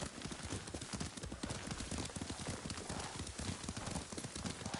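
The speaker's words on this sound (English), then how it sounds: "Lord Sakai taught me to ride a horse." Horse hooves clip-clopping steadily at a riding pace in the video game Ghost of Tsushima, a continuous rhythmic trot of close hoof strikes without talk.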